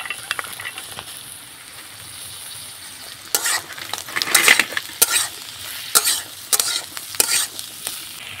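Chopped runner beans, capsicum and carrot hit a pan of fried onion and chilli, a soft sizzle building into loud, irregular scraping stirs with sharp clatters of the spatula against the pan.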